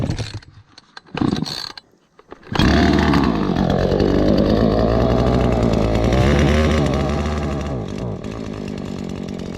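A chainsaw engine is primed and pull-started with a couple of short tugs, then catches and runs loud and close with a steady, buzzing roar.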